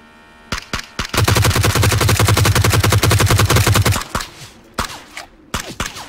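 Automatic gunfire in a first-person shooter video game, a long loud sustained burst of rapid shots preceded and followed by a few sharp single cracks, with no talk over it.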